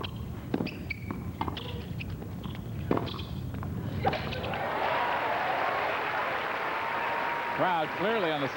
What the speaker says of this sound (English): Crowd clearly on the side of Sabatini now, wanting to see more of the match.